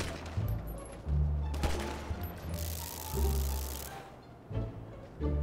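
Several bursts of enemy gunfire crackle in a GTA 5 street shootout, loud bangs spaced across a few seconds with rumbling background noise.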